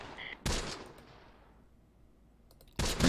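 Two loud bursts of 30 cal machine gun fire in the Close Combat wartime strategy game, one near the start and one at the end, separated by a fading tail and quiet.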